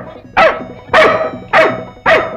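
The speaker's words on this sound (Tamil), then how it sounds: "ஏன் உன்னை பார்த்து நாய் குலைக்குது?" A dog barks four times in a steady rhythm, each bark loud and close, with a short gap between them and no talk over the barking.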